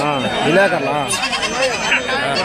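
Large billy goats bleat loudly at a busy goat market, several wavering calls close by over a crowd murmur, with someone talking over them.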